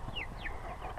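Chickens settling into a new coop on a Central Oregon homestead, with a couple of short, brief calls standing out over a steady low rumble of background noise.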